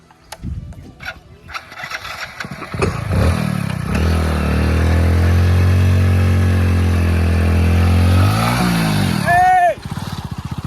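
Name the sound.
motorcycle riding off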